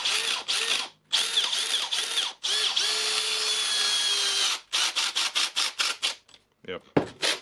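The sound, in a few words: Makita DDF486 cordless drill running with bad noise, second speed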